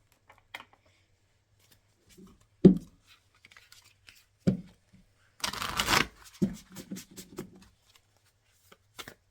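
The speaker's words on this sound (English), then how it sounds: "Let's pull some more cards." Tarot cards are shuffled and pulled in a quiet room, with a few sharp card slaps followed by a dense riffling burst and light flicks, all close and alone.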